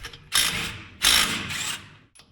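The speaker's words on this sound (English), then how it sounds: "I'm gonna pull one of the shims off of this side, move it to this side" Metal shims clink and scrape as they are moved between sides of a Dana 60 axle differential carrier, heard as two bursts of close mechanical clatter and ratcheting with a brief tap at the end.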